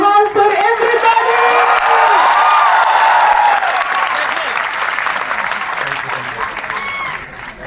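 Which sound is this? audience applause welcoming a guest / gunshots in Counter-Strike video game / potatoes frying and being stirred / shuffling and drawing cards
audience applause welcoming a guest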